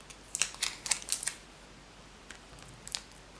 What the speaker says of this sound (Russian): теперь снимаем скотч